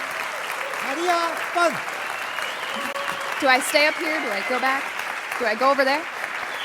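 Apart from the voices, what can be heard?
audience applause after science slam talk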